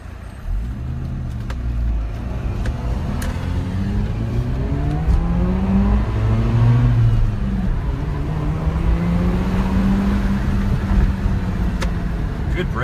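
A classic Mazda RX-7 rotary accelerating hard through a business and residential area, engine note climbing through several rising sweeps and gear changes, loud and close from inside the car.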